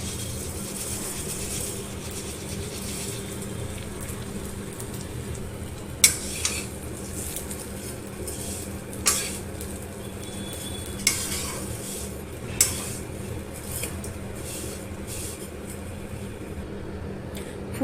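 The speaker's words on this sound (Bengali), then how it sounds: "এর মধ্যে কিনে রাখা সিমুইটা ঢেলে ভালো করে নাড়িয়ে চাড়িয়ে নেব।" Vermicelli frying in ghee in a pan, a continuous low sizzle under steady stirring, with a few sharp spoon clanks against the metal at intervals.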